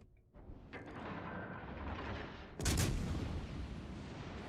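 The 203 mm guns of a Baltimore cruiser in World of Warships Legends fire with one heavy, booming blast midway, set against a steady rumbling game backdrop.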